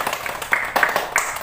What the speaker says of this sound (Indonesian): Coba tepuk tangan untuk kita.